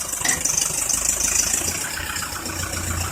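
A Toyota Revo pickup creeps up a slope, its engine held at a low steady idle-like drone with slight rough pulsing throughout.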